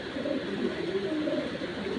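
A racing pigeon from a foreign bloodline coos softly and repeatedly nearby, low rolling calls over a faint steady background, with no talk.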